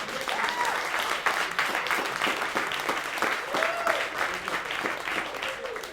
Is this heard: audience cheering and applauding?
yes